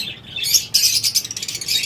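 A crowd of caged pet birds, lovebirds and budgerigars, squawks and chirps at a bird shop, a close, busy high-pitched chatter that swells into a rapid run of repeated calls.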